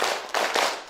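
A group of women clapping hands in a short patterned round during a community health gathering, three quick bursts of claps, close and slightly ragged.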